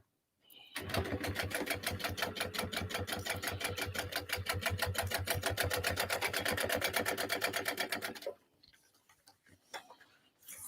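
A sewing machine stitches vinyl bag pieces together in one steady run of rapid, even needle clicks lasting several seconds, close and clear, then stops, leaving faint handling noises.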